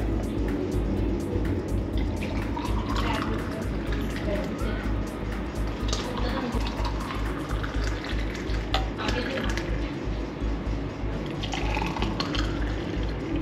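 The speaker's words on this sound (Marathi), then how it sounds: "बरोबर 3 ग्लास भरले" Buttermilk poured into three glasses in a home kitchen, a soft steady liquid fill with light splashing and drips, fairly quiet under a low constant background hum.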